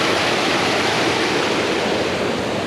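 A river diverted into a new channel rushes loudly and continuously, a dense, steady roar of flowing water close by with no break and no voices.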